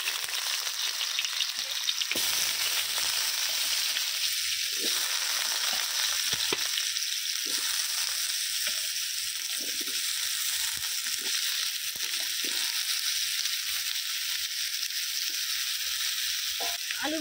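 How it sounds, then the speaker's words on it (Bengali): Potatoes fry in hot oil with tempering spices and salt for ridge gourd posto, a constant crackling sizzle with occasional scraping stirs, close and steady and without talk. "দিয়ে আলুগুলোকে আমি একটু ভাজা ভাজা করে নেব।"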